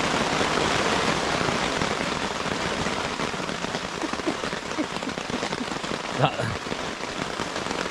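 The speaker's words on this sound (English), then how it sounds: "That's a face which signals how loud the rain is" Heavy rain drums loudly and densely on a surface without pause at an island camp, with a sharp knock standing out near the end.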